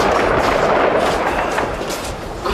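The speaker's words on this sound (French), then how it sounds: "Je les vois jouer au football sur fond d'explosion" Explosions sound in the background of a war zone at Grbavica, Bosnia. A dense, continuous rumble and crackle persists throughout, loud and rough, with no clear speech over it.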